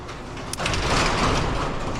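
A garage door rumbles and grinds steadily along its track, close by, a small clunk near the start before the motion settles into a continuous mechanical drone.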